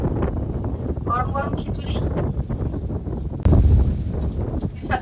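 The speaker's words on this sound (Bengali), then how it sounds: "বাহিরে দেখছেন কি বাতাস" Strong wind blows outside on a rainy day, a steady rumbling buffet against the microphone that grows noticeably louder partway through, under continuous nearby talk.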